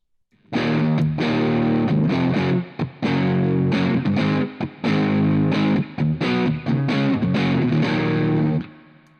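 Heavily distorted electric guitar strums a series of chords in loud, sustained bursts separated by brief choppy stops.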